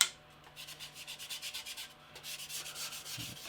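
Rhythmic scraping of sandpaper rubbed back and forth over a hard scale model, steady quick strokes, close and fairly quiet, with no talking.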